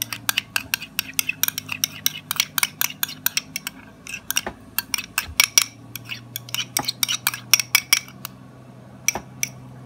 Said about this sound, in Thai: นี่เราก็บี้นะครับเพราะว่าน้ำตาลเนี่ยมันยังเป็นก้อนอยู่บี้เลยนะครับ